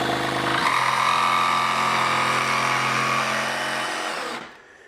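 A Ryobi barrel grip jigsaw cuts a tight corner in wood, its motor whining loud and steady with a rasping blade before it abruptly winds down and stops near the end.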